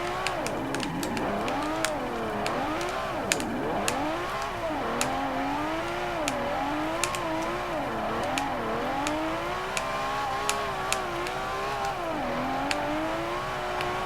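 A Sesto Elemento engine drifting in Forza Horizon 4, revving loudly and continuously with wavering pitch as it climbs and drops through turns, with sharp ticks and clicks scattered throughout.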